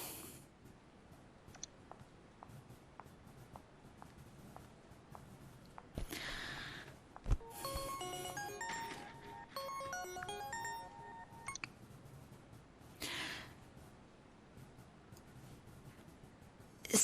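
A telephone ring tone plays alone in a quiet room, a patterned electronic melody rising over several seconds in the middle, with faint clicks and rustles around it and a short burst near the end.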